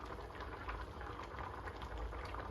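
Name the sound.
yams cooking in an electric skillet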